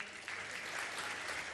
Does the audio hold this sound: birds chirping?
no